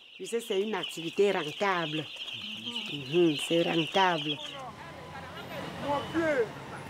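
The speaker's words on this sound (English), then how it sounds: "A chicken market in Yaoundé. The birds on offer here are domestic varieties." Domestic chickens at a market in Yaoundé, Cameroon, clucking and crowing in loud, repeated overlapping calls, close by, with a busier, noisier crowd of birds toward the end.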